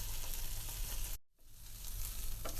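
Ginger garlic paste sizzles and fries in a hot pan, a steady, close hiss that briefly drops out for a moment before resuming.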